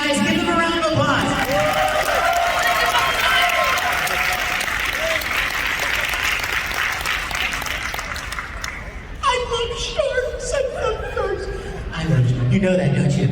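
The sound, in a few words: audience applause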